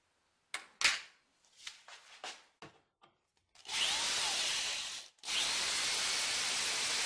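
A power drill bores holes into a car trunk, starting with several short bursts and then running in two long, loud, close passes separated by a brief pause.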